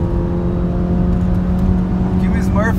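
A tuned 285 WHP stage 2 Golf GTI engine drones steadily and loud from start to finish, a sustained hard acceleration with a constant low hum and rising whine, with faint voices briefly near the end.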